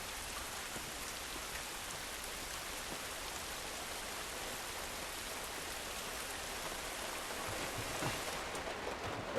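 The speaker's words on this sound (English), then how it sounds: "Love the sound of that rain." Steady rain falls in an outdoor scene of the video game The Last of Us Part 2, a dense, even hiss of drops pattering on surfaces that holds at the same level throughout without letting up.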